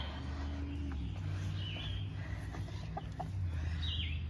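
Chickens cluck softly here and there over a steady low hum, with a couple of higher bird calls in the background.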